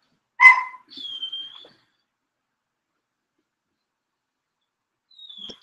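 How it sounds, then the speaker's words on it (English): A single sharp dog bark from some distance away, followed by a thin high whine and a brief faint squeak at the end, in an otherwise quiet room. "hear that damn dog barking?"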